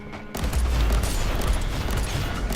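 A bolt gun fires auto volleys in Warhammer 40,000: Inquisitor - Martyr, bursting into a sudden loud, continuous roar of rapid booming shots after a brief quiet moment.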